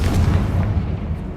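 One Confringo blasting spell going off in Hogwarts Legacy, a loud, deep boom with a rumbling low body that fades over about a second.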